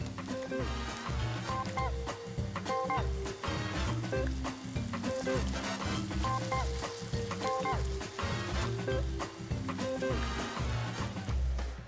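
Georgian mchadi cornbread balls fry in oil with a steady, close sizzle, while a strong rhythmic tonal pattern, likely background music, repeats loudly over the bubbling throughout.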